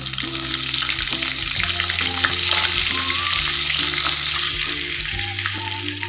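Butter and oil sizzle steadily in a hot pan at the start of cooking egg Maggi noodles, a close, continuous frying hiss with a low background hum and no talk.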